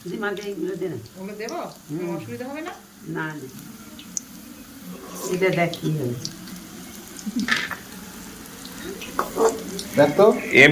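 Pakoras frying in a pan at a small New Year picnic, a soft crackling sizzle running throughout beneath frequent conversation, with a few louder spatters toward the end.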